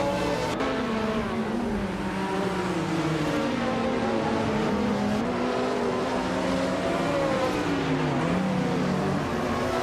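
A field of race cars, led by a 1982 Dome RC82 Group C2 car, pulls away from the start at Weatherfield Speedway in a video game, with overlapping engine drones rising and shifting in pitch, loud and continuous throughout.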